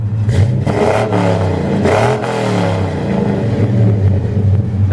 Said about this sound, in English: That is a good sounding car. Not obnoxious, but it has a good growl.